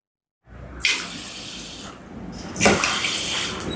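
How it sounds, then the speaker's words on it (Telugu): Water is poured into a pot on the stove for cooking rice, starting after a short silence as a steady splashing stream, then a second louder pour that keeps running to the end. "3 గ్లాసులు నీళ్లు పోసుకుందాం"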